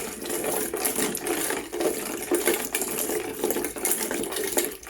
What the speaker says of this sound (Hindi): और अब हम इसको दोबारा इस मदानी की मदद से मिक्स कर लेंगे अच्छी तरह से।